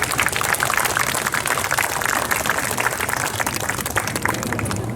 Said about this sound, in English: Mayor Nancy Backus, let's give her a big round of applause.